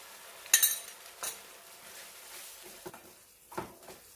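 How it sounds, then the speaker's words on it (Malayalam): Spoon clinking against a pot while salt is stirred into pickle, a few sparse metallic taps and scrapes spaced irregularly over a quiet background. "ഉപ്പിട്ട് നന്നായിട്ട് മിക്സ് ചെയ്തിട്ടുണ്ട്."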